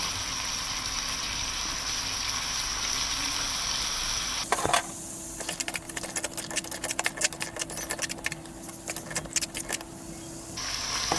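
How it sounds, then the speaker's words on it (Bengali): Ingredients sauté in a pan, first a steady loud sizzle, then irregular scraping and clinking as they are stirred, close and without talk. "এখন আমি ভালো করে এগুলো কষিয়ে নিব"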